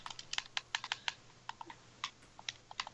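Someone types on a computer keyboard during a Minecraft game session, with quick, irregular keystroke clicks at moderate distance and no speech.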